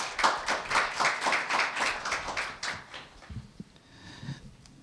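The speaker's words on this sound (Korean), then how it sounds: "큰 박수 부탁드리겠습니다." Scattered conference audience clapping for a speaker, distinct rhythmic claps that thin out after a few seconds and give way to faint shuffling and knocks in a quiet hall.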